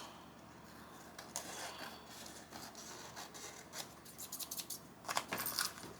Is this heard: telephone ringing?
no